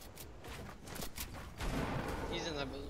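Gunfire in a Fortnite arena match, with a string of sharp shots followed by a denser volley, mixed with speech and game sounds.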